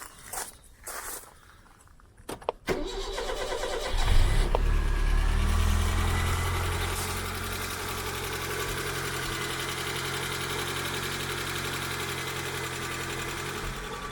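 An Austin Ambassador car engine, dormant for about 19 years, cranks and catches after a few seconds of shuffling, then settles into a loud, steady, low idle that runs on alone.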